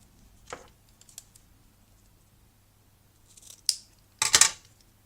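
Scissors trim double-sided tape for a card, making a few sharp, close snips separated by quiet pauses, with the last cuts loudest.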